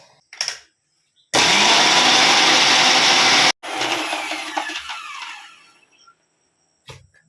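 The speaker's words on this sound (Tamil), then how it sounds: "இதை இப்போ நம்ம அரைச்சி எடுத்துக்குவோம்" A mixer grinder whirs loudly in a short, steady burst while grinding onion chutney with vinegar and salt, then stops abruptly. A rattling, lower-level grinding spin-down follows and fades out.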